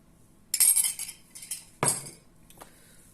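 Potato batter with sliced jalapeño and beaten eggs being stirred in a bowl, a utensil clinking and scraping against the dish in a few short, fairly close bursts with quiet pauses between.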